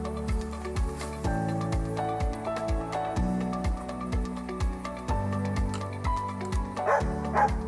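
A trained firefighters' search dog barks and yips in quick, regular bursts, close and loud, with no talking.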